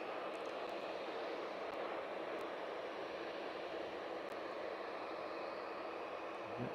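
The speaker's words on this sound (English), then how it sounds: "It's the DHL 757 from Stavanger" A DHL Boeing 757 cargo jet flying in from Stavanger near East Midlands Airport, heard as a steady, broad jet roar that holds at an even loudness through the whole stretch, with no voices.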